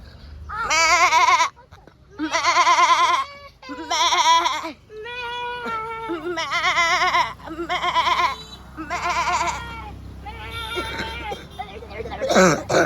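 A female goat bleats repeatedly outdoors in a village field, loud close wavering cries in a series of about eight calls separated by short pauses.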